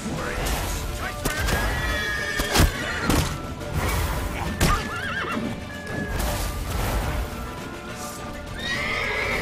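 Horse in The Witcher 3 neighing and whinnying repeatedly over clattering hooves, with loud thuds and impacts from game action, close and busy throughout.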